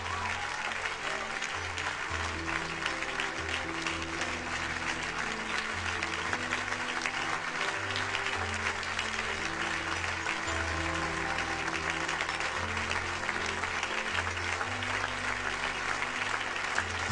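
A church congregation stands and applauds steadily to acclaim the Lord, a dense, continuous wash of clapping filling the room from start to finish with no voices standing out.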